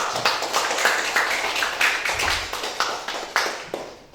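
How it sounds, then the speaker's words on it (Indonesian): A classroom of students claps for a classmate during a religion lesson, a dense, steady patter of many hands lasting several seconds at moderate loudness. "Tepuk tangan dulu untuk Alfa."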